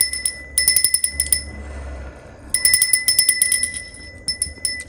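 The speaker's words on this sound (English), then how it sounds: "I'm also going to ring this bell here." A small handheld bell rings in quick bursts during a spiritual cleansing ritual, bright, close and clear, with jangling clusters separated by brief pauses and fading tails.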